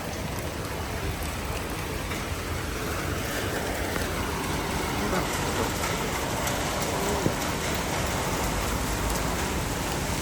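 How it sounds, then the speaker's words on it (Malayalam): Steady, dense heavy rain falls outdoors near a beach area, a continuous broadband hiss of drops on surfaces with no pauses, loud and close throughout. "നല്ല മഴ"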